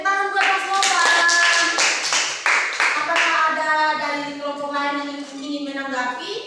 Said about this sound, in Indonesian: Tepuk tangan buat Mas Nova